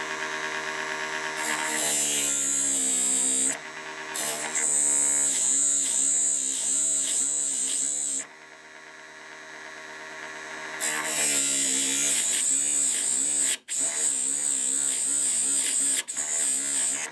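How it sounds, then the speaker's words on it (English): A mini wood bead lathe spins a wooden handle while a hand tool cuts decorative grooves, giving a close, steady motor whine that dips and shifts in pitch as the cut bites and briefly eases. "I'm going to take this tool and try to cut a couple decorative grooves"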